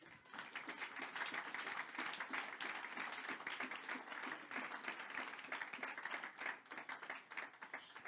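A church congregation applauds during a service, steady dense clapping carrying on throughout at an even level, close and continuous with no talk over it.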